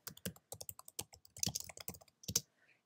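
Brisk typing on a computer keyboard, close and clear, with rapid irregular clicks in bursts and a few brief pauses, no talking.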